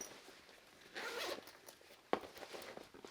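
A zipper on a bag pocket is pulled open in a short, quiet rasping run, followed by a faint click and some soft handling rustle, close by, with no talking.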